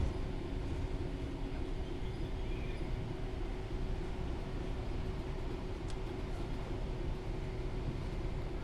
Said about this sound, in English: Train coming the other way, look